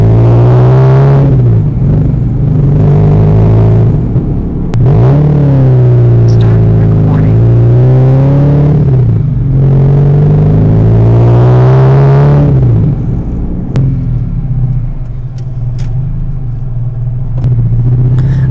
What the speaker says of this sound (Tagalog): Tsaka rinig na rinig yung tunog ng tambotya natin.